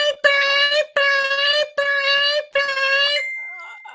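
Four loud, even electronic alarm blasts sound during a football picks broadcast, each lasting under a second and separated by brief gaps, followed by a fading tone.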